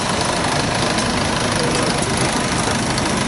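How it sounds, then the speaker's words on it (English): A model traction engine runs steadily at an agricultural autumn show, its engine giving off a dense, constant chugging roar that stays loud and close without a break. "No, I think this is just another model traction engine."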